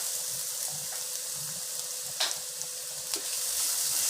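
Chopped ginger and garlic frying in a skillet for a chicken pepper fry, a steady close sizzle throughout with a few brief stirring clinks and scrapes, no talk.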